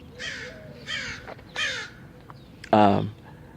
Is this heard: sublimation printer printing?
no